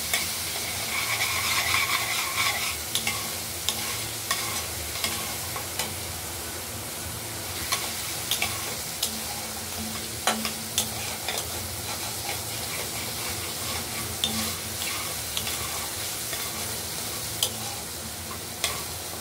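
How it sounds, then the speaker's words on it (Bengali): Mung dal is stirred and fried in oil with a kalonji and dried red chilli tempering, producing a steady close sizzle broken by sharp spoon-on-pan scrapes and clicks throughout. "এই মুগ ডালগুলো তেলের মধ্যে নাড়াচাড়া করে একটু ভাজা ভাজা করে নেব।"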